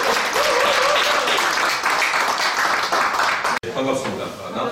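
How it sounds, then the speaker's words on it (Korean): An audience at a Korean book launch event applauds to welcome the next speaker, dense steady clapping filling the room with a voice heard over it, then a brief break and a quieter tail. "박수로 맞이해주십시오."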